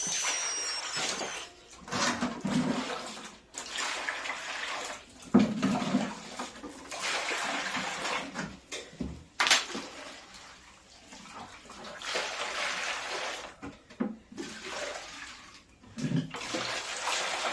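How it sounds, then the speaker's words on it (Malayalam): Water is poured into collected rubber latex to dilute it for sheet making, giving a continuous splashing, gurgling pour that comes in uneven surges with short pauses, close and fairly loud. "രണ്ട് ലിറ്റർ കറയ്ക്ക് ഒരു ലിറ്റർ വെള്ളം എന്ന തോതിലാണ് ഒഴിച്ചു കൊടുക്കുന്നത്"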